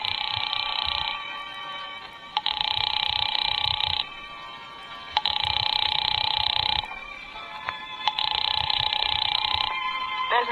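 A telephone rings in repeated long, steady electronic trills separated by short pauses, loud and close, with no voices, in an old-time radio drama.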